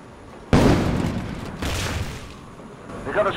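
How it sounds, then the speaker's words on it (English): Two heavy medium-cannon blasts from the Command & Conquer 2013 real-time strategy game, each a sharp boom decaying into rumble about a second apart, with faint game sounds after. "Medium cannon. That's how you send a message."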